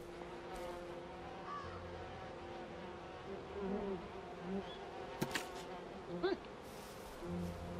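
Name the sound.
buzzing bees in the video game We Happy Few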